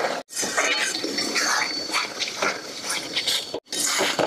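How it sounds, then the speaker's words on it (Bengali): A little water poured into spices frying in a pan sets off a loud, dense hissing sizzle that runs throughout, broken by two brief silent gaps. "দিয়ে দিব অল্প জল।"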